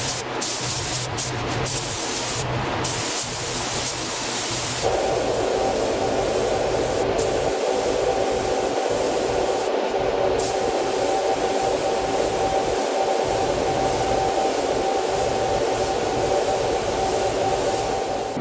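Paint spray gun being cleaned out after mixing clear coat, a steady loud hiss of air and spray running continuously with a short burst of sputtering at the start, no talking.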